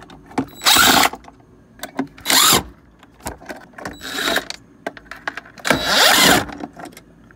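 Auger motor being pulled by hand out of a KitchenAid/Whirlpool refrigerator ice dispenser: several loud, brief plastic scrapes and clunks with rustling handling noise in between, close up and without talk.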